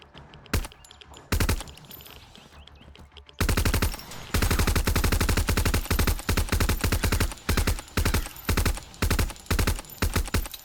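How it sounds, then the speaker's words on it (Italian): Machine gun fire in the video game Zero Sievert, a few single shots early on, then long loud rapid bursts with short pauses between them. "Una bella mitragliatrice e via."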